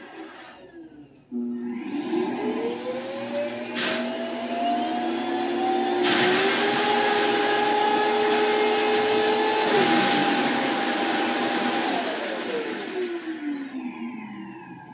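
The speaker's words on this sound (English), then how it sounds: "let's check out the self-emptying bin in action. Just a fair warning, it's quite loud" A Roomba i8+ robot vacuum's self-emptying docking station starts with a sudden loud whoosh and roars steadily, its motor tone rising in pitch, holding, then winding down toward the end, close and alone with no talking.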